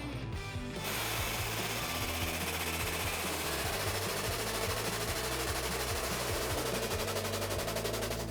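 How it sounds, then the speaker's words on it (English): Air/hydraulic truck jack raising its hydraulic ram, a loud continuous pneumatic rattle and rapid mechanical pumping that runs steadily and close once the air release lever is pressed. "it's as simple as depressing the air release lever to activate the hydraulic ram"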